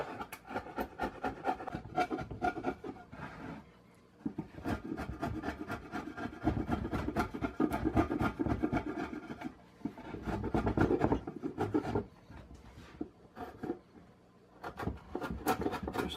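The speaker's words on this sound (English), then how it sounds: "Just chisel out to the bottom of the saw grooves" A chisel scrapes and pares wood down to the bottom of saw-cut notches for an aquarium stand, a close, quiet run of rasping strokes in bursts separated by short pauses.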